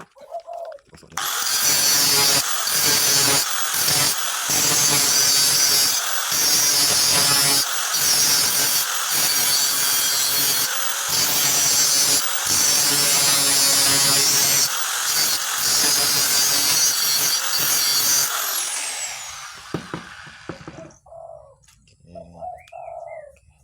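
A metal net frame edge being rubbed sharp by hand while making a betta fish net. Close, loud, steady scraping in rhythmic strokes with brief pauses runs for about twenty seconds, with no talking.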